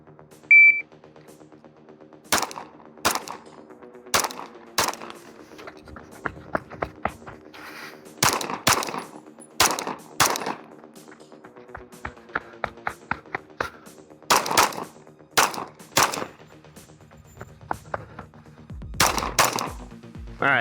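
Sharp, close gunshots ring out in quick strings and pairs during a shooting drill, with a shot timer's beep starting the sequence and a steady hum underneath.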